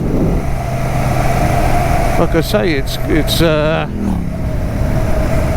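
A Royal Enfield Shotgun 650 motorcycle engine while riding, a steady, constant drone running beneath someone talking.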